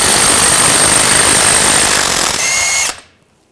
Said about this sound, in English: And we're going to take the axle nut off.